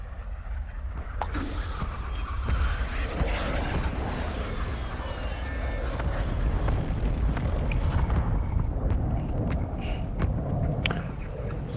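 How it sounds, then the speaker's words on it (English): A friendly airstrike in Call of Duty: Modern Warfare II roars overhead as a sustained, loud jet-engine rush blended with rumbling explosions and gunfire, continuous and dense throughout with scattered sharp cracks. "Friendly airstrike on the way."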